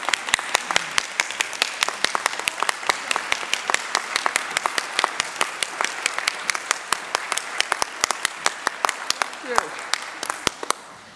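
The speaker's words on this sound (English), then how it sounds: "Let's please give her a stand and give her a round of applause" Standing ovation at a university nursing pinning ceremony: a large crowd claps continuously and loudly, a dense, even wash of applause that holds steady throughout.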